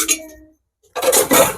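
Steel saucepans and cookware clatter and clink as they are handled, one short metallic rattle, a brief pause, then a louder, denser burst of ringing clanks close by.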